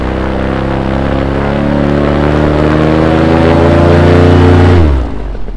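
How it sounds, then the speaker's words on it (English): A paramotor propeller roars loud and close during a ground run-up, a steady heavy engine-and-prop drone that holds for several seconds, then winds down sharply as the throttle is cut. "Oh, the prop sounds amazing cutting through the wind."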